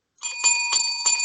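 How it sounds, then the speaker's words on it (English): A bell rung to close a wrestling podcast episode gives several bright metallic dings in quick succession, loud and close, with a sustained ringing tone between the strikes and no talk over it. "there's the bell. So you know what that means."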